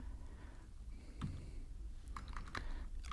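Quiet clicks of typing on a computer keyboard, a few soft keystrokes clustered toward the end over faint room noise.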